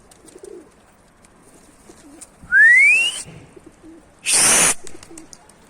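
Mardin tumbler pigeons near a coop make two loud, close bursts of wing-flapping and whistling, separated by quieter stretches with faint cooing and low background sounds.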